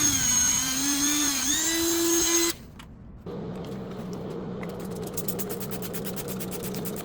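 High-pitched whine of a rotary tool polishing a copper-plated 3D printed pendant with red rouge, close and steady. It cuts out briefly, then resumes with a lower, rougher buzz.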